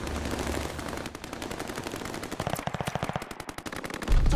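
Death Machine minigun from a Call of Duty game firing long, loud, rapid bursts of gunfire up close, with a brief dip before a denser stretch of rattling shots and a heavy low rumble at the end.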